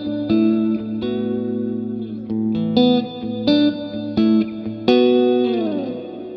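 Electric guitar through a Fender Marine Layer reverb pedal set to its larger hall, playing a series of plucked chords and notes that ring out with long, smooth reverb tails, clear and close without any talking.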